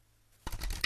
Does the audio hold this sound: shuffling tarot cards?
yes